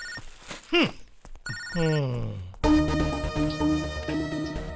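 A telephone rings with a bright, repeating electronic tone, loud and close, following a few short sounds and voices.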